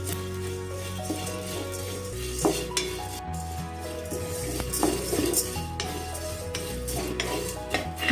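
Sago pearls and flattened rice (poha) being stirred and sautéed in a pan, with steady scraping and clinking of a spoon against metal and a faint sizzle, continuous and close over a low background hum.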